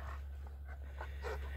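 Two dogs pant with quick, breathy rhythm while playing with toys, close and steady throughout, with a brief whine over it.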